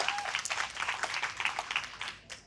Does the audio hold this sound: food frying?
no